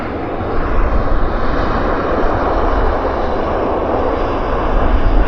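Air India airliner at Vancouver airport beginning to taxi, a loud, steady broadband jet engine roar that holds constant and swells slightly toward the end, with no voices.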